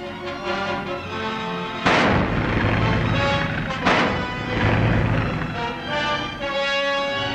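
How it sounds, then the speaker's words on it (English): WWII warship naval guns firing: two heavy, sharp blasts about two seconds apart, each trailing a rumbling decay, over a continuous tonal newsreel soundtrack. "our sky units go speeding to bomb, while the warships join in with their powerful guns blazing away"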